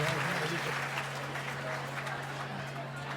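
An audience at a religious gathering claps with steady, dense applause throughout, fairly faint and slightly distant, with a constant low electrical hum underneath.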